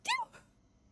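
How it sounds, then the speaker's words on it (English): A single sharp sneeze bursts out close and loud, then a softer short trailing sound, with no talking around it. "For those of you who are just listening, that was in fact a sneeze."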